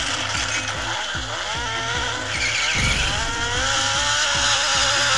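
A new police motorcycle's engine revs hard and continuously up close, with a rough, throaty tone rising and falling over a steady mechanical roar.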